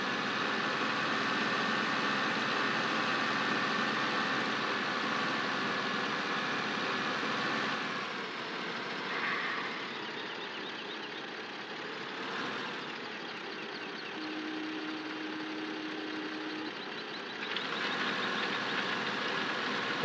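A tractor engine in Farming Simulator 15 idles and drones continuously at a steady, moderate level, with a few slight shifts in tone and a brief tonal hum partway through.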